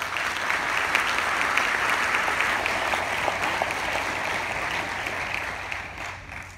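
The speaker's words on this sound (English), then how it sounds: "Please give them another round of applause." Crowd applause at a groundbreaking ceremony for a new music building, a broad steady clapping roar from a sizable outdoor-sounding audience, holding for several seconds before thinning out at the end.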